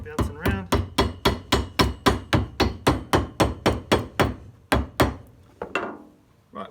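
A hammer knocks repeatedly on a boot sole in a fast, steady rhythm, about fifteen sharp close blows, then a couple of final strikes and a short scrape.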